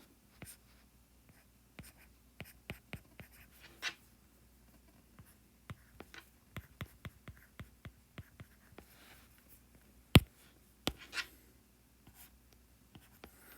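A pen draws a physics diagram on a surface, giving sparse close scratches and taps in irregular bursts with quiet gaps between strokes.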